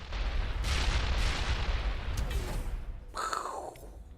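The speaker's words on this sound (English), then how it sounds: "Explosion." A loud, sustained explosion from the video game Mass Effect rumbles heavily for several seconds, then a bright burst of debris or a flare trails off at the end.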